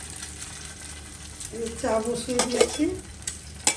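An egg fries in a pan in a home kitchen during morning breakfast, with parathas already cooked and tea on the stove. A steady, close sizzle runs throughout, with brief stirring scrapes, while someone talks over it.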